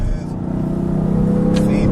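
A 2015 BMW M3/M4 pulls hard on the Road America circuit, its engine note a loud, steady drone rising in pitch throughout, close and continuous.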